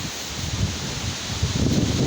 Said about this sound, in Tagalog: palakas pa rin ang hangin